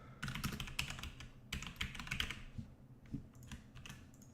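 Fingers tap quickly on a computer keyboard in uneven bursts of close, quiet clicks, with brief pauses between groups of keystrokes and no talking.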